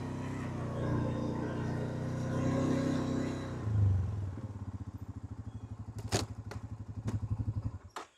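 A Guardian 750L 750cc gasoline 4x4 ATV engine runs while making tight turns on grass in turf mode, a steady rumbling drone that shifts to a rhythmic idling putter, with a few sharp clunks, heard near.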